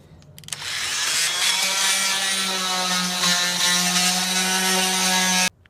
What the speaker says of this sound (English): I'm going to use the oscillating multi-tool to cut up under here.